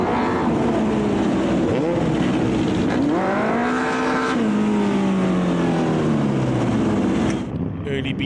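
Formula Volkswagen and Super V open-wheel race cars roar past on a historic race circuit, engines loud and close with rising and falling pitch as they accelerate and pass, continuous throughout.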